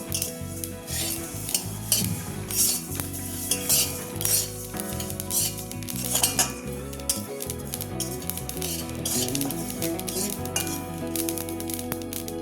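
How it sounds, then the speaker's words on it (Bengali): Black cumin seeds dry-roasting in a wok with no oil, stirred steadily with a metal utensil that scrapes and clinks against the pan over a light sizzle. Nobody speaks. "তো কালো জিরেটা দিয়ে আমি এটা একটু ভেজে নেব।"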